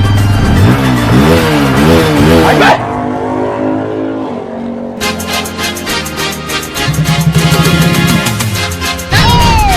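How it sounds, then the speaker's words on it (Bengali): A loud engine revs up and down repeatedly, close by, rising and falling in pitch with brief drops between bursts. "এখন দিয়া চলে আসছে নতুন বাইকটা"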